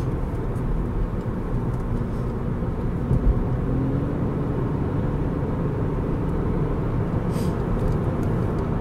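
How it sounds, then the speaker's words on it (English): A car's engine drones steadily, loud and close, as the driver drops into fourth to overtake on San Francisquito Canyon Road, a constant low rumble with road noise and no clear rev change. "So I'm actually going to put it down into fourth here and see if I can pass these guys."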